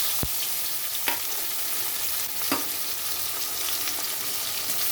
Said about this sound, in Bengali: এই তেলের মধ্যে দিয়ে দিচ্ছি কালো জিরা এখানে দিয়ে দিচ্ছি কুচানো পেঁয়াজ